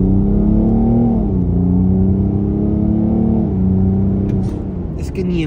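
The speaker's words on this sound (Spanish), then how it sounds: "Vamos a acelerarlo un poco más fuerte." A BMW X5 M50d diesel accelerates hard from inside the cabin, a loud, deep engine drone rising steadily in pitch with smooth gear shifts, then easing off as faint voices appear near the end.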